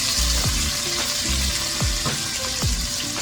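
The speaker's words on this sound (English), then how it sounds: "I'm going to begin to add the cabbage" Shredded cabbage fries in a pan with a dense, loud sizzle, accompanied by a few regularly spaced swooshing scrapes as it is moved around, and no talking.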